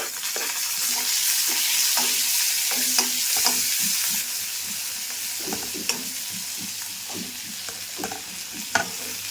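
Onions and tomatoes fry in a pan with a close, crackling sizzle, overlaid by repeated knocks and scrapes of stirring; the sizzle is loudest for the first few seconds, then softens.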